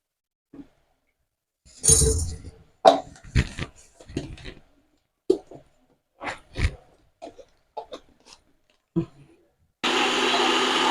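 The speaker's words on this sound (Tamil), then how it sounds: "இது கூட நட்ஸும் சேர்க்கணும் நட்ஸும் போட்டிருக்கேன் இதே நல்ல பேஸ்ட் அரைச்சிடணும்" Scattered clinks and knocks give way near the end to a loud, steady whirring as a kitchen mixer grinder starts grinding nuts into a paste for vegetable kurma.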